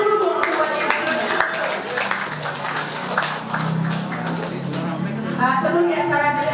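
Audience clapping at a Muhammadiyah anniversary and inauguration gathering in Pondok Kelapa, scattered claps and a short burst of applause mixed with voices talking and calling out nearby.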